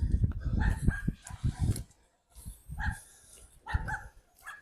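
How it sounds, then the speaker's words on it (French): A small dog of roughly two to three kilos barks repeatedly in sharp clusters somewhere outdoors near water in Montpellier, yappy bursts with brief pauses, moderately distant and fairly faint. "Vu la sorte d'aboiement, à mon avis, ce chien ne doit pas faire plus de 2-3 kilos."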